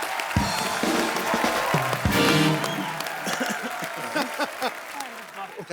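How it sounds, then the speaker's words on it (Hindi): Applause from a TV comedy show studio audience, a steady patter of clapping mixed with crowd noise and voices talking over it. "एक बार सलमान खान और अनुष्का शर्मा के लिए जोरदार तालियां।"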